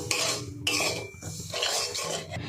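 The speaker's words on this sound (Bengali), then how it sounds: "একদম হালকা করে আমি একটু নেড়ে নেব" Dry semolina is stirred in a pan over low gas heat while making milk gujiya, the spoon scraping and clinking against the metal in repeated close strokes, with no one talking.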